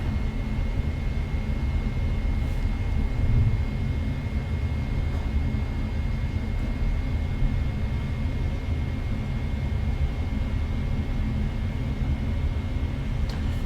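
Jet engines of a PMDG Boeing 777 in a flight simulator, spooling during a rolling takeoff on runway 29 at Vienna: a steady, loud, continuous low roar with a faint high whine, unchanging and with no talking.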